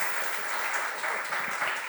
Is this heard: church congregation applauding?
yes